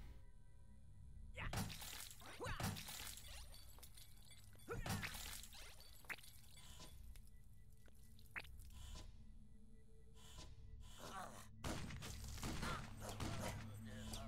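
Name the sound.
gunfire from a gun in the video game Utopia 9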